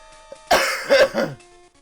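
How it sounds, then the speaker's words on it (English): A single harsh cough or throat clearing, close and fairly loud, rising out of a quiet background and fading after about a second. "So I'm going to be coughing a bit."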